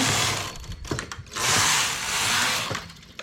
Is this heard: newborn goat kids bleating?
no